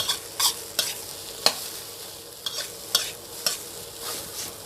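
Rice is stir-fried with chili in a pan, with repeated sharp spatula scrapes and clanks over a soft continuous sizzle, close and clear, no voices.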